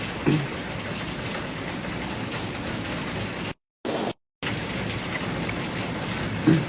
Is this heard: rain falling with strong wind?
yes